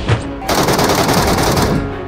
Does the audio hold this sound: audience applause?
no